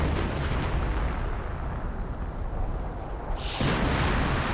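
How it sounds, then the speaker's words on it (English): Video-game artillery from an on-map howitzer: a continuous rumbling barrage of blasts, ending in a sharper, brighter burst near the end. No one speaks. "Another MG gun in the house right behind it gets hit by the artillery."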